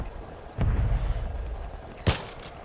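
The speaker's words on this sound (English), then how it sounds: "Friendly mortar strike on the way." Video game mortar strike: a heavy explosion booms in and rumbles on for over a second, then a sharp second blast hits near the end, loud and close with no voices.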